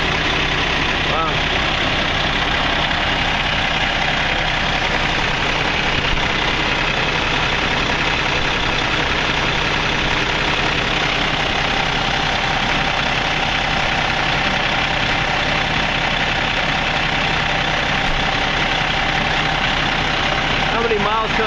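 A Kenworth truck engine idles steadily and loudly close by, a constant rough mechanical drone with a faint knocking texture throughout, while a voice talks over it.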